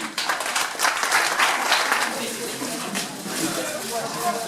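Applause rises for Lilian Duval of AC Sans-Puits, first cadet finisher at a Grémévillers race prize-giving, steady clapping from a crowd that lasts throughout with some voices underneath.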